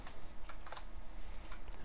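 Fingers type on a computer keyboard set up for video games during programming work, producing a quick, uneven series of close, light key clicks with no voices.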